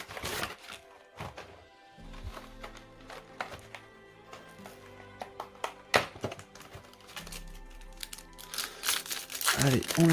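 A trading card booster pack from a Gold-type set is torn open, its foil wrapper crinkling and crunching in bursts of taps and rustles throughout, growing busier near the end, with someone talking in French over it.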